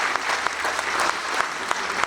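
Audience applause at a mayor's New Year address in Saint-Victoret, a steady wash of many hands clapping throughout, dense and even with no voices rising above it.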